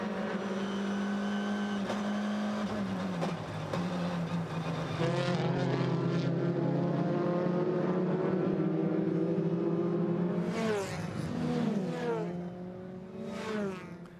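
Chevrolet touring race cars battle at the Hungary round, engines droning loud and steady with rising and falling pitch as cars pass and change gear, several machines overlapping close by.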